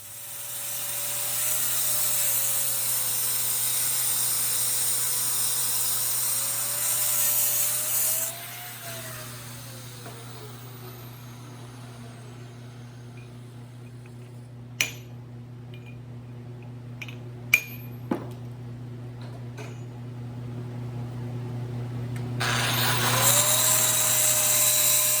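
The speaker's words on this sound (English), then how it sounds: "the last clip I'm diamond sawing away" A diamond saw cuts into stone while carving a life-size pointing angel, whining steadily at the start, falling quiet through the middle with a few sharp knocks, then starting up again near the end.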